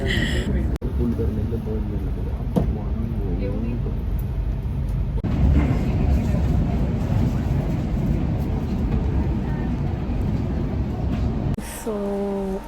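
Steady rumble of a moving Jan Shatabdi passenger train carriage near Ratnagiri, India, from inside, with broadband rattling and clatter throughout and brief voices and a tone near the end.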